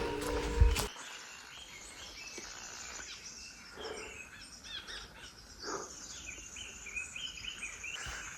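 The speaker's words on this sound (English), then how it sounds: "lots of birds chirping. So many birds here." Many birds chirp and call in a Bhutan forest along the Kuensel Phodrang to Changangkha nature trail, a steady layered chorus of small tweets at moderate distance, with no talking over it.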